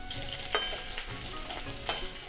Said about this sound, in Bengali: কিছুক্ষণ পর আমি এবারে একটু নেড়ে দেব